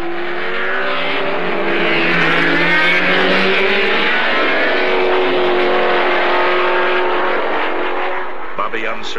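A field of 1977 race cars roars around the track after the pace car pulls off, a dense, loud wall of overlapping engine drones sustained throughout, with someone narrating over the top.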